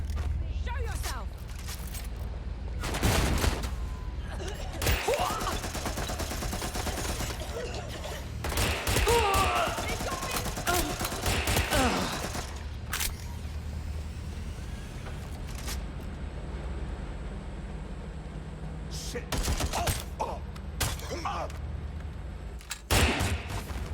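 Gunfire in Watch Dogs Legion, with bursts of loud shots in clustered volleys separated by quieter stretches, heard alongside someone talking over the action.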